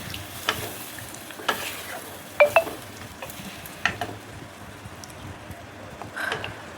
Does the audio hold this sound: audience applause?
no